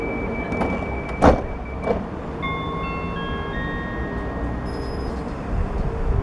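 A Southern Railways train idles at a platform at Battersea Park station, a low steady rumble with a few clunks and a rising electronic whine as it prepares to move.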